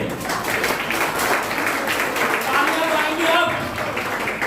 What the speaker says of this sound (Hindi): तालियां तो आएंगी आपकी अब